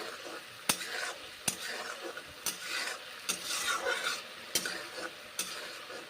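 A spice masala with water being stir-fried in a pan, the spoon scraping at a regular beat about once a second over a soft, continuous sizzle.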